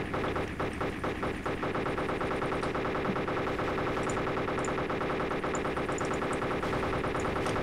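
Rapid automatic gunfire in DayZ, a continuous dense rattle of shots running the whole time over a steady background hum, with faint distant pops in between.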